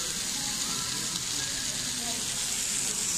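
Beef fajitas heavy on onions sizzle steadily at a restaurant table, a continuous bright hiss with faint clatter and muffled background murmur throughout.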